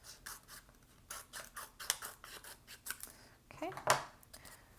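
Scissors snip through kraft box paper in a quiet room, a quick run of short crisp cuts with a few scratchy rubs between them, close and fairly faint, no one speaking.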